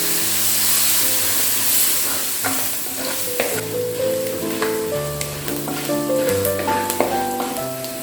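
Curry leaves and chillies fry in hot oil, giving a loud, steady sizzle and crackle with spattering pops throughout.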